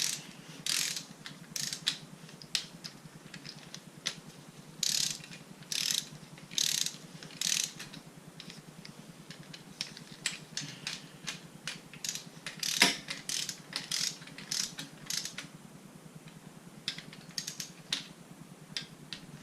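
Ratchet clicks in quick bursts while snugging bolts on a Mazda RX-8 rotary engine rebuild, close and crisp with short pauses between runs, no talking.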